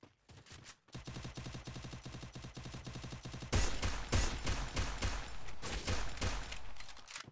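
Gunfire in the mobile shooter game Free Fire: a short burst, then a long rapid automatic volley, followed by heavier, louder overlapping shots, all close and continuous.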